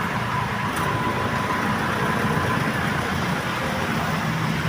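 Continuous roadway rumble from a long traffic jam stretching toward Merville, engines idling and vehicles droning at close range, steady and fairly loud with no speech.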